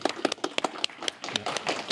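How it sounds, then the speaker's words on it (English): Live audience at a football talk show clapping in a short burst of applause, sharp scattered claps rising and thickening into steady clapping over two seconds. "let's have a round of applause"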